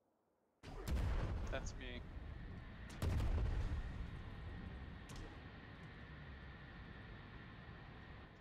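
Heavy booming cannon blasts in a video game, two big hits a couple of seconds apart, followed by a long rumbling roar; a voice speaks briefly over it.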